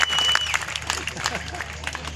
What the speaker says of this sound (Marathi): टाळ्या करा जरा वडगावकरांसाठी